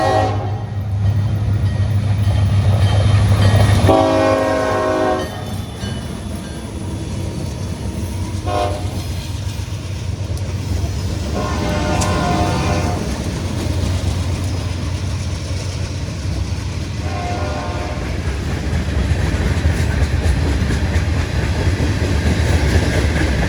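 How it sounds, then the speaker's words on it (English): A Pan Am Railways freight train of clay slurry tank cars, bound from Bellows Falls, Vermont to Portland, Maine, rumbles past loudly with a blast of its horn at the start and steady rolling wheel clatter throughout. "a train of all-clay slurry tank cars travels from Bellows Falls, Vermont to Portland, Maine"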